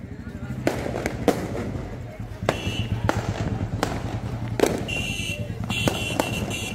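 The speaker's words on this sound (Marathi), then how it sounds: "जिथे पहा तिथे फटाकडे वाजत आहेत" Firecrackers bursting during festivities in Ayodhya, a series of sharp cracks and bangs at irregular intervals, some loud and close, others more distant, over a crowded background with voices.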